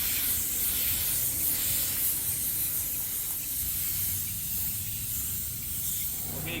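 A spray gun lays base coat paint onto a cracked Lincoln MKZ bumper during a mobile repair, giving a continuous loud airy hiss that stays close and steady throughout, with no talking.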